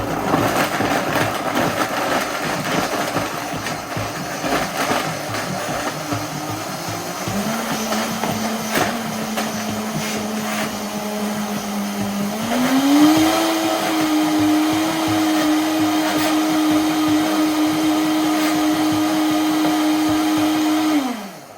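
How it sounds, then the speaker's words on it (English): A Vitamix blender whirs continuously as it grinds bread into breadcrumbs, a loud, steady motor drone that steps up in speed twice as it runs, then cuts off at the end. "Just turn the Vitamix on, turn it on slow and then start to blend."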